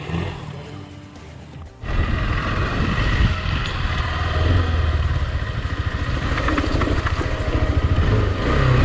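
A KTM Adventure motorcycle climbs an offroad slope, its engine revving up suddenly to a loud, sustained throbbing roar after a quieter idle, close to the listener.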